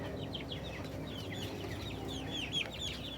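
Native hens cluck in a farmyard in repeated short, chirpy calls at moderate distance, with a steady low background hum and no talking.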